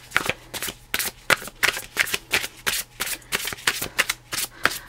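Tarot cards are shuffled in steady, rapid riffles, a string of crisp papery flutters and slaps repeating close to the mic with no talking.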